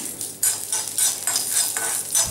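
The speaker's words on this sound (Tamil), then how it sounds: "கொஞ்சம் எண்ணெய் ஊற்றி தனியாவை வறுத்துக்கோங்க" Coriander seeds roasting in a little oil on a low flame, stirred in quick, rhythmic scraping strokes with a faint sizzle beneath, close and fairly loud, with no talking.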